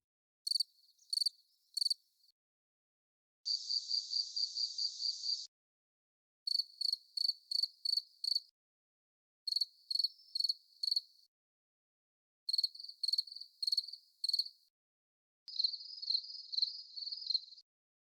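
Crickets chirp in clean, isolated bursts of rapid pulses, groups of three to six separated by silent gaps, with a couple of longer trilling runs, alone and moderately faint.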